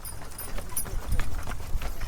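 Hoof clip-clop from a dinosaur horse carriage in a Love2D game: a steady, rhythmic clopping that is fairly close and continuous, with a low rumbling bed underneath.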